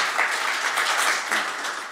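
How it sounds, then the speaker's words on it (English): Audience applause after a talk on ethics and politics, a steady dense wash of many hands clapping, fairly loud and continuous for the whole stretch, with no voices over it. "give him a round of applause"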